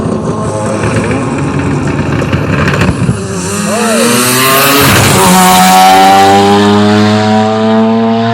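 Ryan Williams' Mazda RX-7 drag race car launches on a drag strip at a Utah speed festival, its engine rising in a loud, sweeping high-revving roar as it pulls away, with a dense crowd and ambient background throughout.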